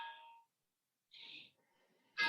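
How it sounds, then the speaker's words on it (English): An antique grandfather clock chimes in three separate ringing tones with quiet gaps between them, the last strike the loudest and clearest. "this antique grandfather clock can't be stopped. So we're just gonna have to live through 8 chimes."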